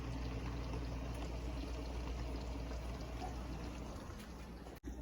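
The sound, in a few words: pouring cooked pasta into a drainer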